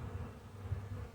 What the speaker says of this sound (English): There's this big honking fly. It sure wants to get in there and get some of that honey.